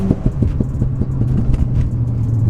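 Ford Fiesta ST accelerating, a low rumbling exhaust note broken by a rapid series of sharp pops and crackles from the tailpipe, loud and close.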